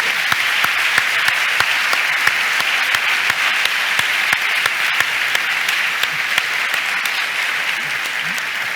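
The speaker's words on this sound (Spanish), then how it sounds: "un aplauso para Santiago" Sustained applause from a conference audience at an auditing sector event, dense steady clapping with sharp individual claps standing out, continuous and fairly close for the whole stretch.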